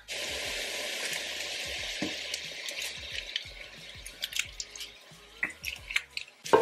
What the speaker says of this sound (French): je rajoute un peu d'ail en tout cas avec l'oignon. Je viens faire dorer un peu les oignons.